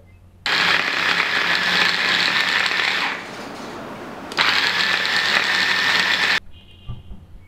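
A kitchen blender grinds a chicken shami kabab mixture of meat and ingredients into paste, its loud motor whirring steadily, dipping briefly midway before surging again, then cutting off.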